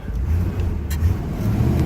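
A 1964 Corvette engine revs steadily at a held higher speed, loud and close, a continuous throaty roar with slight swells and no pause.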